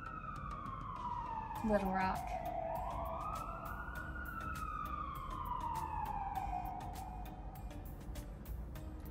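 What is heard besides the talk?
emergency vehicle sirens passing outside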